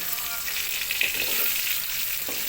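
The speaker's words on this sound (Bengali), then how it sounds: "দেখো ফ্রাই হয়ে এসেছে" Bitter gourd, potato and pointed gourd frying in a pan give off a steady, close sizzle with a few soft stirring scrapes, no voices over it.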